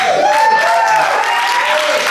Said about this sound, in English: some of you people cheer